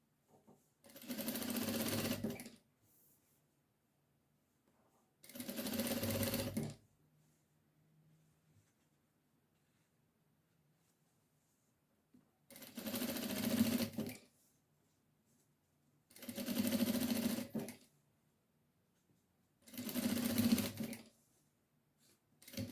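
A sewing machine stitches a hem on a cloth bib in five separate bursts of steady, close mechanical whirring, each lasting a couple of seconds, with quiet pauses between them and no talking.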